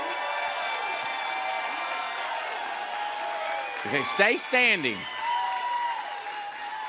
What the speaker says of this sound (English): Cheer for these people